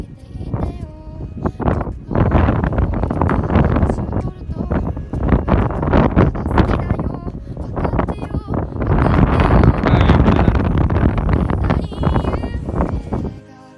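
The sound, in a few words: strong wind on a Swiss ski mountain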